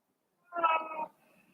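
A cat gives a single clear meow of about half a second, close by, in otherwise quiet surroundings.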